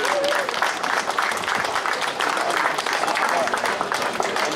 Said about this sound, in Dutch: Een groot applaus voor al deze mensen die wat dit mogelijk hebben gemaakt.